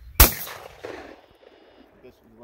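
A single sharp shotgun blast at a clay target shooting range, loud and close, followed by a fading echo and faint background voices.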